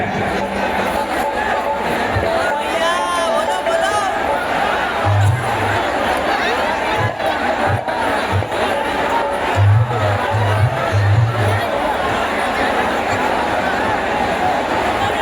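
Large crowd at an outdoor stage show at Ramraj Mandir, a dense steady murmur of many voices with scattered shouts and chatter, amplified talk over the top.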